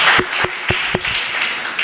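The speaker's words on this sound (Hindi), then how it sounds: "बहुत ज़ोरदार तालियां" Applause breaks out at a shayari poetry gathering, a brief round of clapping with a few distinct sharp claps standing out, close and moderately loud.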